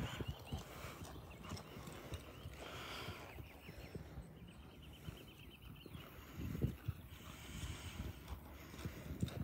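Quiet, rhythmic hoofbeats of a horse loping through a barrel pattern, steady thuds on soft ground heard from a short distance.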